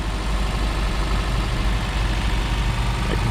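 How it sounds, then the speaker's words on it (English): A car engine idles steadily, a close, even low rumble with a constant hum and no revving. "the motor definitely sounds very healthy"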